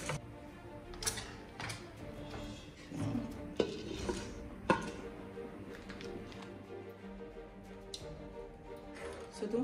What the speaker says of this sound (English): you have to keep stirring that pasta